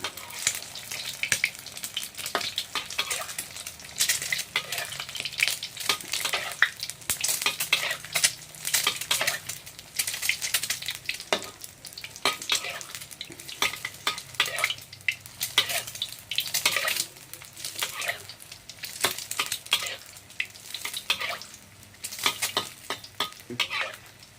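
Eggs fry in hot oil in a pan, a steady crackling sizzle running throughout with frequent metallic scrapes and clinks of a utensil against the pan, close and fairly loud, no voices.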